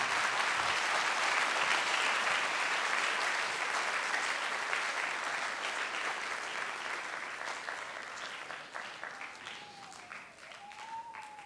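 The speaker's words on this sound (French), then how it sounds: "J'aimerais qu'on applaudisse pendant qu'il descend." A concert audience at a French cultural institute applauds loudly and steadily, the clapping gradually thinning and fading toward the end.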